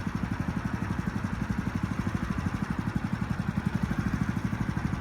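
Small engine on a parking line painting machine running at low RPM, a steady close chugging idle with an even rapid pulse throughout and no talk.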